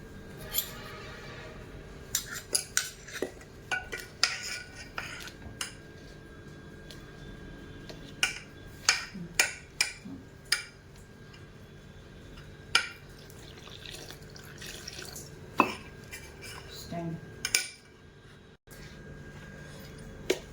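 A spoon scrapes and clinks irregularly against the sides of a bowl in short bursts as thick cake batter is stirred, close by and with no talking.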